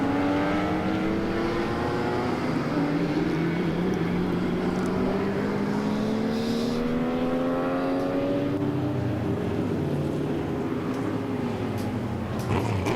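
Race cars sweep past on the last lap of a circuit race, engine notes rising and falling in pitch as several cars approach and pass at a moderate distance, a continuous layered whine with no voices.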